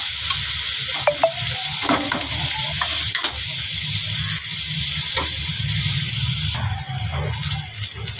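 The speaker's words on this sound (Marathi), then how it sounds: "कांदा चांगला लाल होऊन द्यायचा आहे आपल्याला." Onions frying and sizzling in a pan as a quick dried-fish (sukat) dish is prepared, a steady close hiss with occasional stirring scrapes throughout, no talking.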